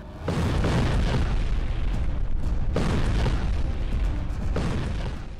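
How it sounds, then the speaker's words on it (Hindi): A Turkish bomb test detonates in a massive, sustained roaring blast, with a rumbling wave that surges, briefly eases, then swells again, loud with no voices. "कैसा धमाका, ऐसी तबाही"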